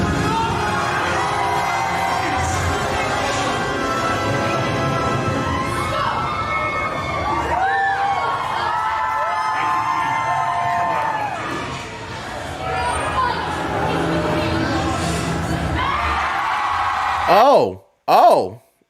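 A crowd screams and cheers aboard the Star Wars Galactic Starcruiser. Loud, sustained shouting and whooping from many voices, including children, runs throughout and ends with a couple of sharp rising shrieks.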